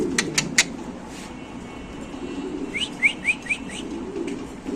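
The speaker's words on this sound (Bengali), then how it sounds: "তো দর্শক এখানে আছে মাক্সি মুন্ডিয়ান কবুতর" Maxi Mundian fancy pigeons calling in a loft, a few faint chirps at the start and then a quick run of soft repeated call notes, fairly quiet against low background noise.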